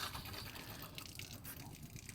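Pressurized water spraying from a quick-connect nozzle on the side of a V-nose ATV trailer, a continuous hissing, splashing gush heard close and fairly quiet.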